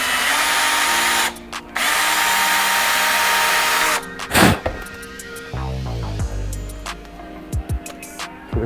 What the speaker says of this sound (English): is drill this out a little bit.